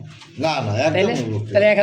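Red Bombay pigeons at a pigeon market give close, throaty cooing with a brief pause and a second burst near the end.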